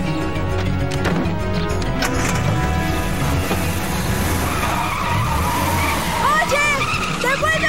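A car speeds away with loud tire skidding and squealing over a rushing engine, the screech rising toward the end amid busy background noise.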